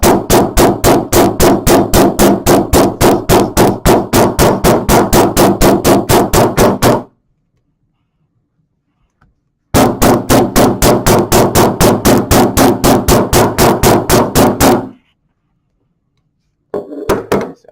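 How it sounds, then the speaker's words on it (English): Rapid, evenly spaced hammer blows flatten a leather vinyl seam, ringing out in two long bursts of roughly seven and five seconds, separated by a pause, loud and close. "And I'm hammering right where the seam is."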